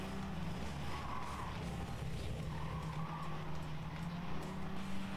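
Racing cars in a video game, including a Toyota Aqua, with a steady engine drone and tire skidding heard continuously at low level, with no talk over it.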